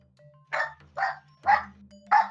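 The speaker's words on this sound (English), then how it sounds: "Bark, bark." A dog barks four times in an evenly spaced series, each bark short, sharp and fairly close against a quiet background with a low hum.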